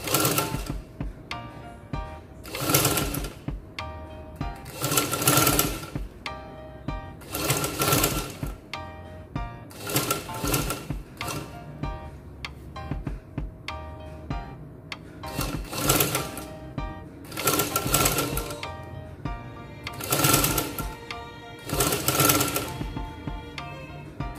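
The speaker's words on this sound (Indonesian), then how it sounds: "pelan-pelan aja waktu jahit sleting Jepang, sedikit-sedikit, jadi dia bisa langsung rapat" A sewing machine stitches a Japanese zipper onto lining fabric. It runs in repeated short, loud bursts of rapid mechanical chatter, separated by brief pauses as the fabric is fed slowly.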